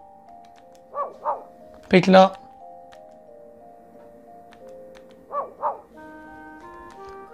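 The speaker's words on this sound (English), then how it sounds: "Cute dog, innit?" Dog named Alfie barking in the farming game Harvest Moon: One World: two pairs of short, quick barks over soft game music, with a brief spoken phrase between them.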